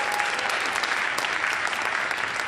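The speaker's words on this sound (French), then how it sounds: "si on peut donner une main d'applaudissement au roi des rois" A church congregation applauds loudly and steadily, a dense wash of many hands clapping close by with no pauses.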